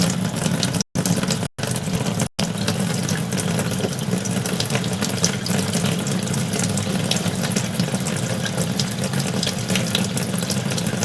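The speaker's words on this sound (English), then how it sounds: "We'll try to run a little bit of water here in this stationary tub" Water runs from a faucet into a stationary tub, a steady close rushing hiss lasting the whole stretch, briefly interrupted by a few short dropouts near the start.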